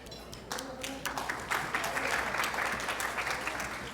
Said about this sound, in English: Applause for integrators.